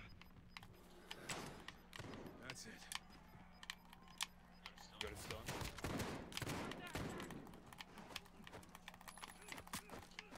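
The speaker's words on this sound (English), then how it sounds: "Oh, I beat him with a pistol." Pistol fire in the shooter Call of Duty: Warzone, a quick string of sharp shots scattered across a low, busy background with faint talk mixed in.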